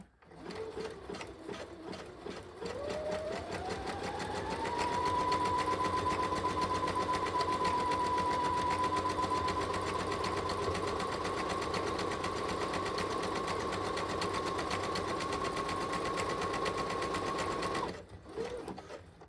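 Sewing machine stitching seams on a half-scale jacket, a long continuous close whir with a steady rising motor tone that runs unbroken for about fifteen seconds before stopping, alone without talk.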